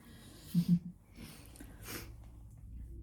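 A person with a cold gives two quick, close sniffs near the start, then only faint room noise and breathing follow.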